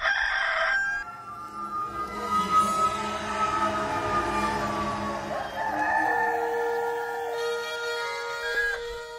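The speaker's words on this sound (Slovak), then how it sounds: "A hneď na to zaspieval kohút." A rooster crows one long drawn-out cock-a-doodle-doo, close and clear, with the call rising and then trailing off slowly over several seconds.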